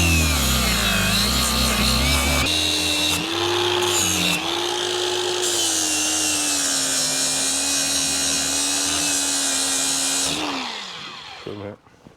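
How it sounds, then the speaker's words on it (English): An angle grinder buffing the edge of a metal piece before arc welding outdoors in the rain, a loud continuous whine that holds steady for several seconds before spinning down at the end. "So we're buffing off an edge just to help with the weld."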